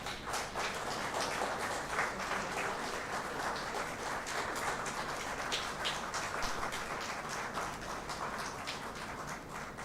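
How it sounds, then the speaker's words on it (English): At a Day of the Seafarer ceremony held by India's DG Shipping, an audience claps in a dense, sustained round of applause lasting about ten seconds. It is fairly distant, with no talk over it. "I think this truly deserves a huge round of applause"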